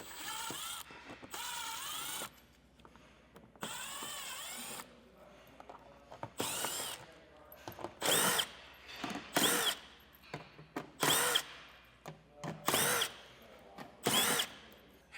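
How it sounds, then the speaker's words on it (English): A power drill with a 7mm socket removes skid plate screws under a 2024 Cadillac Escalade in a series of short whirring bursts with pauses between them, each with a ratcheting edge, getting louder and more frequent toward the end. "We'll just have to use a 7mm socket and remove all of them."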